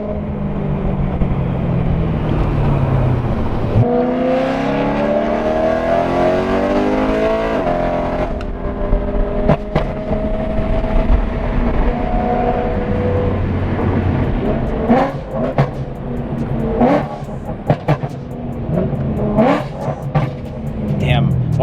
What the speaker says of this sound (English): So if I wanted to go on an upshift, I just upshift and let out the gas, and then it'll drop the RPMs and then pop.